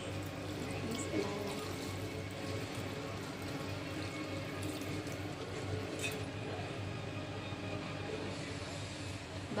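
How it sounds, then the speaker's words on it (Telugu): Water pours into a hot pot for instant noodles, a steady rushing hiss that holds at an even level for several seconds. It sounds close, and no voices are heard. "దాంట్లోకి సన్నీళ్ళు పోసుకున్నాం కొంచెం"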